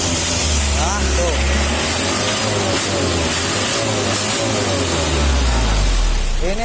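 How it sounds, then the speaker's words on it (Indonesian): A car engine hums and revs up and down at close range, with a steady low rumble and rising pitch sweeps, with voices talking faintly beneath. "Ini nanti habis di test drive positif semakin halus bunyi mesin"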